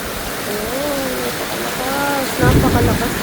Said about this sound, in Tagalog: Ang lakas ng ulan. Parang may bagyo.